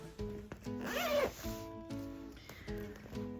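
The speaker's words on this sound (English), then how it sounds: "I got the turquoise stripy zipper" A turquoise striped zipper is handled while fabric from a Ruby Star Society strawberry collection is unboxed: a short rasping zip pull with tonal squeaks stands out over steady background sounds.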